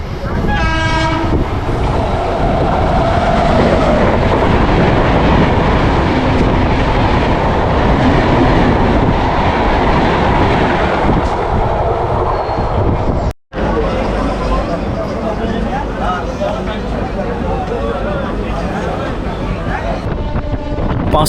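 A local passenger train on the Howrah to Midnapore line runs loudly and steadily close by, with a continuous rumble and rattle throughout and a brief cut in the sound about two-thirds of the way through.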